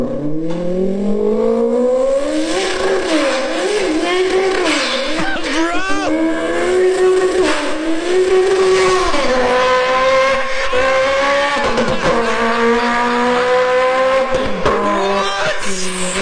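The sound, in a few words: beatbox imitation of a JDM race car revving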